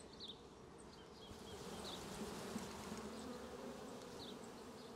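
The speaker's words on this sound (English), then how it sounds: "I'll shake these little bees off." Honey bees hum in a faint, steady, continuous drone around a brood frame lifted from a hive, with no talking.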